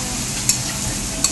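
Monja ingredients (vegetables) are stir-fried on a hot griddle, with a steady loud close sizzle and a couple of brief spatula scrapes.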